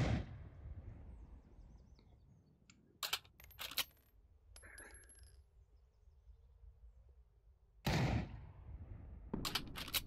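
Sharp gunshots in a video game target-shooting obstacle course, a few isolated cracks then a quick burst, with faint mechanical clicks between them and quiet gaps.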